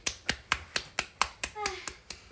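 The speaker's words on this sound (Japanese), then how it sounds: "しおりが頑張ったので皆さん拍手してください" A small group claps about eight times in a slow, even rhythm to congratulate Shiori during a livestream, each sharp clap distinct and close, with a brief voice murmuring partway through.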